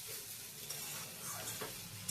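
Semolina halwa with egg cooks in a pan as small splashes of water are sprinkled in, giving a quiet, steady sizzle with scraping stirs and brief hissy bursts.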